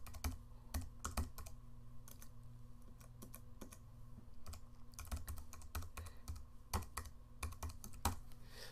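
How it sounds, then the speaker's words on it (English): Keys clatter on a computer keyboard as a keyword is typed, quick irregular clicks in short runs over a steady low background hum, with no talking. "let me just type it just so you can see it"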